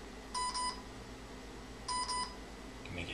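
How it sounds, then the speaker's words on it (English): A LEGO Mindstorms NXT brick, commanded from an iPad, gives two clear electronic beeps about a second and a half apart, each a steady high tone, close and alone in a quiet room. "we'll just try the beep button on the iPad. It's beeping, it's a good sign."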